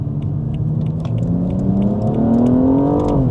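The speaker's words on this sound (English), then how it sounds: "Gearbox shifts down super fast, to be fair." BMW M235i engine note rising steadily under load, a close, loud rumbling drone climbing in pitch for a few seconds before dropping off sharply at the end.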